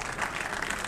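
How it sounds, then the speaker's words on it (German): A cinema audience applauds the Iron Sky film team at a premiere appearance, steady dense clapping from a crowd filling the whole second. "Dann einfach ein großer Applaus bitte für das gesamte Team von Iron Sky."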